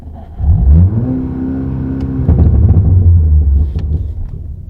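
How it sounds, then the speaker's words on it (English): A Volkswagen GTI engine (Unitronic Stage 2) held at about 4,000 rpm on launch control, a steady loud droning roar after a rising rev, close by with a few clicks, no talking. "hold the gas down,"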